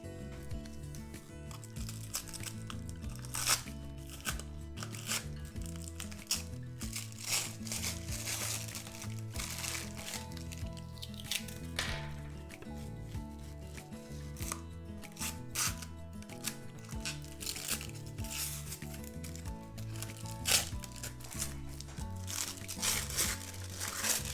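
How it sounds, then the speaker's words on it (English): Scissors cut a sticker from PET tape with continuous crinkly plastic rustling and snipping, close and steady throughout, with faint room tone and no clear talking. "No, I have to cut it out."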